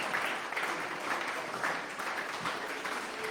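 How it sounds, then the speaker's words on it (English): Audience applause at a city council and school board candidates forum, a steady wash of clapping from a moderate-sized crowd at middling distance, continuous throughout with no one speaking over it. "Let's give them a round of applause."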